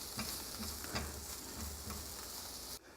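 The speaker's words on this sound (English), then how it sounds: "stir it until it's mixed well" Ingredients are stirred in a hot pan over steady sizzling, with soft repeated scraping strokes, close up, and the sound cuts off sharply near the end.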